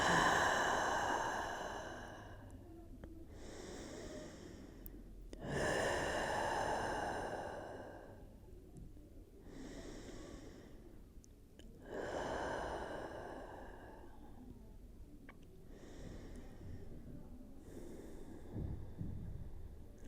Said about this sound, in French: Et respirez profondément. On va prendre 3 respirations, pareil, pour bien se déposer ici.